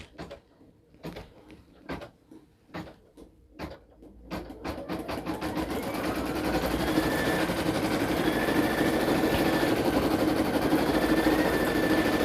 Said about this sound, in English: I'm gonna lower it and I'm gonna hit stitch